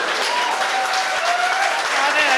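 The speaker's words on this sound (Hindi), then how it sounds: "तालियां घनघोर बजाइएगा हमारा।" A crowd at a Hindi comedy poetry recital applauds the poet with loud, continuous clapping. Faint voices and laughter carry underneath.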